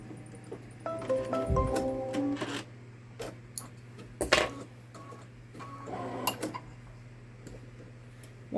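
Babylock Solaris Vision embroidery machine stitching a patriotic gnome design, giving quiet, irregular mechanical ticks and clicks with short whirring bursts and pauses, close by in a quiet room.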